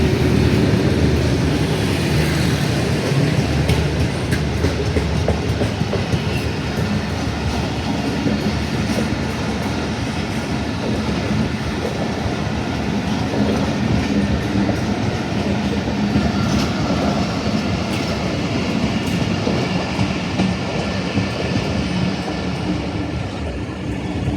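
Train led by locomotive 6410 passing through Badamibagh station, a long continuous loud rumble with rapid clickety-clack of wheels over rail joints, steady and close throughout.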